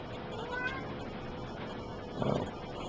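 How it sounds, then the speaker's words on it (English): A pet cat meowing indoors, one brief, fairly faint meow rising over a steady background hum. "I have a pest of a cat here."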